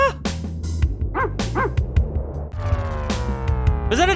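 A dog barks repeatedly inside a song, sharp loud yelps scattered in an irregular rhythm over the band's music, with a final bark at the end.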